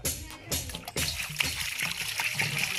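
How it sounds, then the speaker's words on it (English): Water splashes and sloshes as chicken is washed in a country kitchen in Jamaica, a series of close irregular splashes and trickles, with voices talking alongside. "Throw some water in it now. Wash him off."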